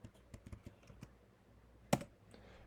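Fingers type on a computer keyboard at a desk during AutoCAD work, with a handful of soft, close key taps followed by one sharper keystroke, quiet and without speech.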